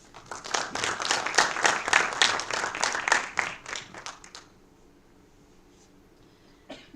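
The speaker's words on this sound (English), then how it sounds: "A big round of applause for Dr. Park." Audience applause at a faculty development event fills the first four seconds with dense, lively clapping, then fades to near silence with a brief sound near the end.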